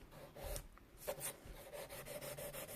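An acrylic nail tip is worked with a 180 grit file, giving quiet, close, rhythmic back-and-forth rasping strokes in a steady run.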